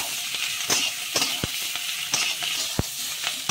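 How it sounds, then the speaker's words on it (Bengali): Beans and spring onion stalks fry together in a little oil in a pan, giving a steady sizzle with occasional sharp clinks of a utensil against the pan. "সিমগুলো আমি এর সঙ্গে দিয়ে দিচ্ছি, একসঙ্গে সব ভাজা হয়ে যাবে।"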